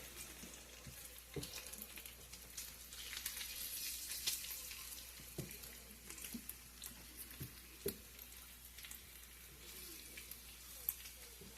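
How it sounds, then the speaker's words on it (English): Quiet, steady sizzling of bacon frying in a pan, with faint crackles and occasional small clicks and pops. "We're frying up pretty good"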